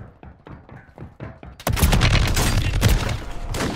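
Gunfire in Call of Duty: Warzone, starting as a run of distinct single shots at a steady rhythm, then breaking into a loud, dense burst of rapid fire and impacts for the rest of the stretch.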